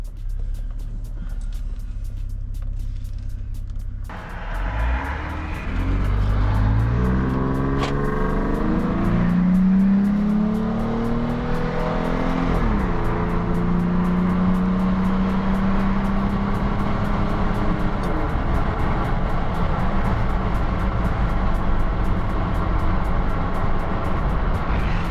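A 225,000-mile Jeep Wrangler starts off on a test drive, its engine rising through gear changes into a steady loud road roar with tire and wind noise, heard from inside the vehicle with no talking.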